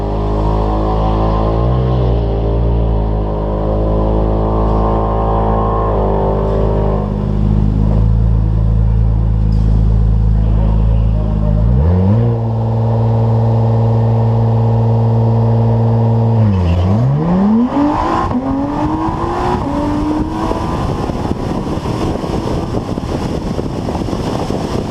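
A street-trim Honda NSX launches down a drag strip, its engine roaring loudly and climbing through several gear changes, each shift marked by a brief dip before the revs rise again, then a long sustained high-speed pull that fades as it recedes.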